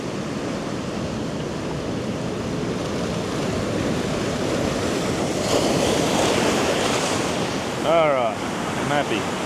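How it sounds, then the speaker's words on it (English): Ocean waves breaking on a beach at sunrise, a continuous wash of surf with wind buffeting the microphone, a swell building midway and a brief voice near the end. "Oh yeah, some good waves there."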